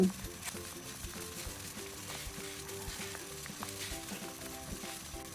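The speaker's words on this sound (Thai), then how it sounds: "คนคลุกเคล้าให้เนื้อสุก ต้มไปเรื่อยๆให้เนื้อสุกเปื่อยนุ่ม" Beef stirred in a pot while cooking for a Thai herbal beef soup, a soft, steady bubbling and sizzle with occasional utensil scrapes, quiet overall, with faint music underneath.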